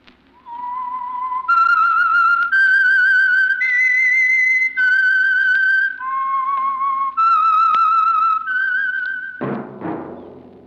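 A lone performer whistles the eerie opening theme of The Whistler radio mystery program, a clear, close melody of sustained gliding notes that ends in a short low thump.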